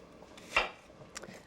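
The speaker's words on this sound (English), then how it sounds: "I'm going to cut some onion." A knife cuts through a red sweet onion on a board in one distinct close chop, followed by a softer tap a moment later, in an otherwise quiet kitchen.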